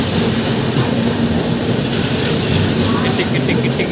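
Passenger train running on the tracks at night, a loud continuous rumble and clatter of wheels from inside the carriage, with voices talking over it.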